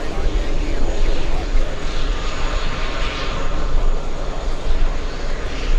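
A passenger airliner takes off at JFK airport on runway 22 left, a steady, loud engine roar that holds for the whole stretch without letting up.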